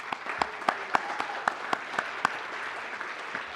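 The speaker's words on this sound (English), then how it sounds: "Go ahead and give some applause." Graduation ceremony crowd applauding students who earned a seal of biliteracy, a steady wash of many hands clapping in a large room with a few louder nearby claps standing out.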